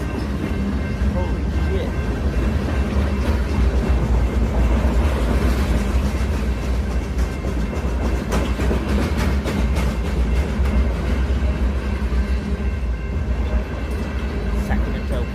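A train heading south from Sacramento, California rolls past a road crossing in a steady, loud rumble with rattling wagons for the whole stretch, while a person talks over it.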